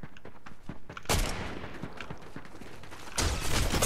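Rapid bursts of video-game gunfire from a weapon in first-person Fortnite, loud and close, with a dense volley in the middle and another burst at the end.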